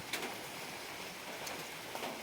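Light drizzle falling around a simple farmhouse in the countryside, a faint, even patter that stays soft and steady throughout with no talking.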